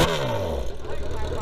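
A Kawasaki Z1000 motorcycle engine revs through its exhaust, loud and close, with a falling pitch sweep as the revs drop, under speech.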